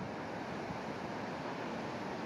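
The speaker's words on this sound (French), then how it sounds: "Regardez la force de ces vagues qui s'engagent le long des falaises." Ocean waves surge along sea cliffs near Puerto de la Cruz, Tenerife, a continuous broad roar of surf and wind, steady and moderately faint, with no distinct individual breaks and no voices.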